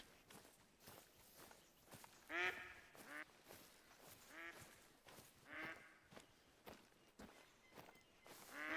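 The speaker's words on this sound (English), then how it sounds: "I hear ducks in front of me." Ducks quack repeatedly in the hunting video game theHunter: Call of the Wild, a few nasal calls in scattered bursts, fairly near, over soft footsteps.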